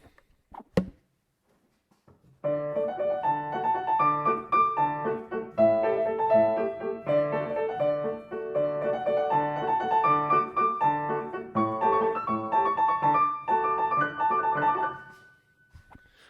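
A 1981 Yamaha U3 upright piano plays a steady passage of chords and melody for about thirteen seconds after a brief knock, with a medium, rounded tone, close and clear.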